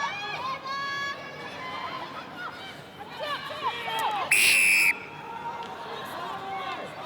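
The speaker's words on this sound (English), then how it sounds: "Well, a loud blast of the whistle." A referee's whistle gives one loud, sustained blast lasting about half a second at a women's rugby sevens match, rising above crowd noise and commentary.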